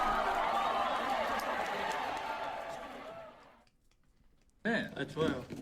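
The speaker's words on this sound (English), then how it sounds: "Dude, look, listen to the crowd!" A crowd cheering and applauding at a live singing show in the Philippines, a broad roar that fades out, followed by close voices talking.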